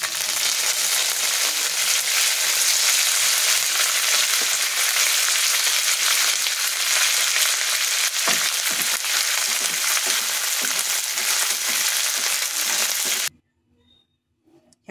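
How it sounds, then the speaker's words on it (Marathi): Curry leaves frying in hot oil for a chutney, a loud, dense, continuous sizzle and crackle with occasional stirring taps, cutting off abruptly to near silence at the end. "आता कढीपत्ता आपण तळून घेऊया।"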